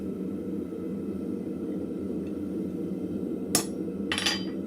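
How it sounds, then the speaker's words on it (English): In a blacksmith shop, a hammer strikes a center punch on warm steel twice in quick succession. The sharp metallic taps stand out over a low, steady forge roar. "I'm just going to put a little center punch mark at 1 inch"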